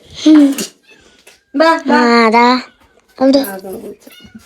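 A cat meows three times close by, drawn-out and tonal, with short quiet gaps between calls.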